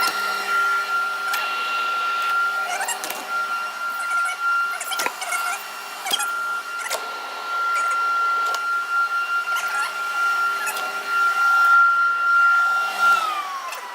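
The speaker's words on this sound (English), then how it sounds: "so that's the dust extraction all in" A workshop dust extraction system for woodworking tools runs on a test, giving a steady whining mechanical drone with a sustained tone, interrupted by occasional sharp knocks and clicks throughout.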